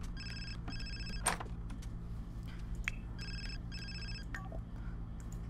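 Telephone ringing in the video game The Sims 4, two pairs of electronic trill bursts over a low background hum, with a few clicks between them.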